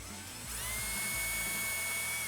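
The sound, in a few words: drill bit run down a beadlock screw hole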